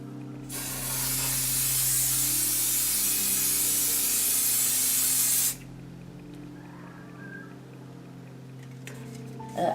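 A can of fixative or hairspray is sprayed onto a drawing in one long, steady hiss lasting about five seconds, then cuts off abruptly, leaving a quiet room with a faint click at the end.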